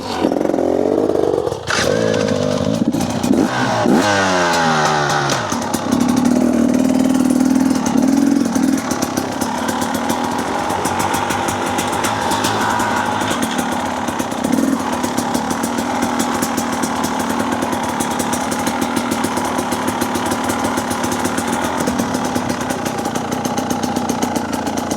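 A dirt bike engine runs steadily on a trail ride, a loud close buzzing drone with a revving rise near the start, then holding a constant rough tone to the end.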